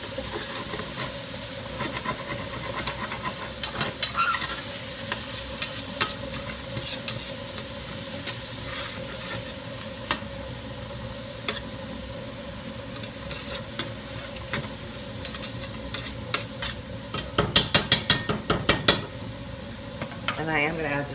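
Onions fry steadily in olive oil, hissing all the way through, while a spatula scrapes the bottom of the pan now and then. A burst of quick scraping comes near the end, a voice talks over parts of it, and the dish is meatball stroganoff.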